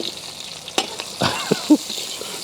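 Onions dropped into hot oil in a pan start to fry, for a fish curry cooked in a van outdoors: a steady broadband sizzle with a few sharp crackles and pops, close and moderately loud, with no talking.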